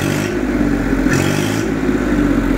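A Massey Ferguson 241 tractor engine revs loudly and close by, a steady throbbing diesel rumble with brief surges in pitch and no talking over it.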